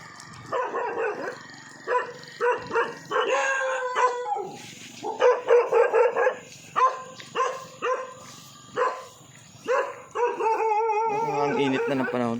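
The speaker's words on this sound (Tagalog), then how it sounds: "Mga aso." Several dogs bark and howl in repeated bursts, fairly close, with short yips and drawn-out howls overlapping through the stretch.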